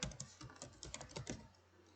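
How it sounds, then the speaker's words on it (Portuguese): Keys being pressed on a computer keyboard during a Word document session, a quick run of light, close clicks at an uneven rhythm that tapers off toward the end. "se você fosse continuar, você vai dando Enter"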